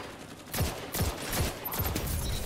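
A scout rifle fires in a video game, with five sharp, evenly spaced cracks about half a second apart, each loud with a short echoing tail over a low background rumble.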